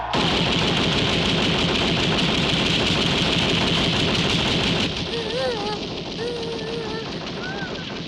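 Soldiers' rifles fire in a dense, continuous volley in a war film, loud sustained crackle for several seconds, then a quieter stretch where voices and whistling tones sound over the fading din.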